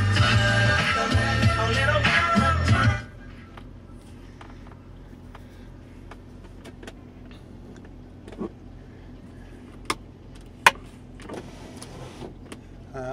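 Electric window motors whir on a 1998 Range Rover 4.6 HSE, a loud steady motor hum for about three seconds, then fading to a quiet cabin with a few faint clicks and taps.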